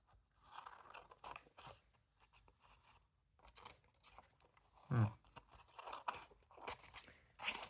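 Paper being cut with scissors while making a jumbo tag for a pocket book page, heard as a series of close, crisp snips and crinkles with quiet gaps between them and no talking.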